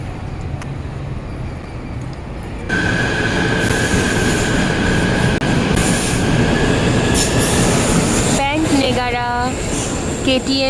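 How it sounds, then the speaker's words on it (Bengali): A KTM Komuter train rumbles at a station in Malaysia, the loud steady roar of the carriages rising as it moves, then the metallic squeal of wheels and brakes near the end. "কেটিএম কমিউটার ট্রেন স্টেশন, এখানে আমরা এসেছি"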